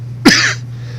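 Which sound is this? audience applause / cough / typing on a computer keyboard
cough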